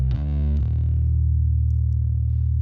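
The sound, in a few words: guitar with light distortion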